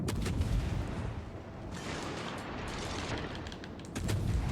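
Destroyer guns fire repeatedly in the naval game World of Warships Legends, with a steady stream of booming shots over rumbling battle noise, fairly quiet throughout and louder bursts near the end.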